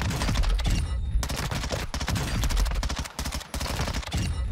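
Rapid gunfire bursts from the Lachmann Shroud in a video game firing range, loud and close, with clusters of sharp shots separated by short pauses.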